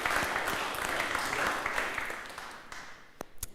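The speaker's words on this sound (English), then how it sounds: "One more round of applause, please." Dense conference audience applause, many hands clapping at once, steady and fairly loud before thinning out into a few scattered claps at the end.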